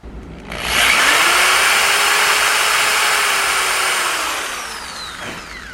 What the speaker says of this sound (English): I just have to drill the hole now.